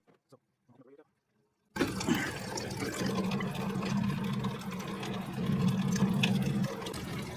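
Coolant drains from the radiator of a Jeep Grand Cherokee during a water pump replacement, a steady splashing pour that starts abruptly after a quiet moment and keeps running, with a short burst of voice before it begins.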